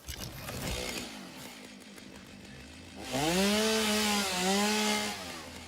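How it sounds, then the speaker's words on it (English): Chainsaw cutting leaves in the video game Satisfactory, a faint rumble that snaps into a loud, steady buzzing whine with a brief dip in pitch partway through. "Chainsaw."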